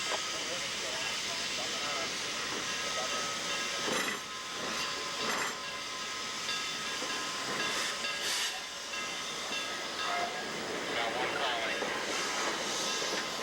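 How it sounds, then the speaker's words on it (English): Two steam locomotives, the 611 and the 1218, surge past each other in a run-by before a crowd, giving a steady loud hiss of steam and rolling train noise with brief bursts, continuous and near throughout. "Both locomotives powerfully surge by one another and really put on a show."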